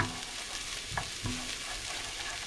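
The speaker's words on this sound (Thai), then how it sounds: "ผัดกระเทียมกับหัวหอม แล้วก็จะเอาผักรวมๆเนี่ยค่ะมาผัด" Garlic, onion and mixed vegetables stir-frying in a pan in a home kitchen, a continuous close sizzle with a few brief utensil clinks against the pan.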